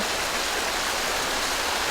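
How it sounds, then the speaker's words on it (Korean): Mountain valley stream near Cheongpyeongsa temple rushing steadily, a dense, continuous broadband wash of flowing water that stays close and loud throughout with no voices. "계곡을 따라 힘차게 흐르는 물소리에 저도 모르게 마음을 뺏기고 말았습니다"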